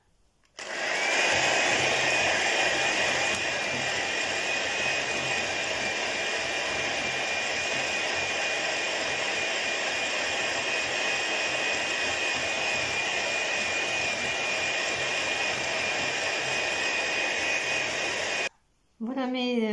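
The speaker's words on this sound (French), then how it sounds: "je vais monter mes blancs en neige bien ferme" An electric mixer whips egg whites into stiff peaks for an almond-powder cake, giving a steady, loud, close motor whine that holds unchanged for many seconds before cutting out briefly near the end.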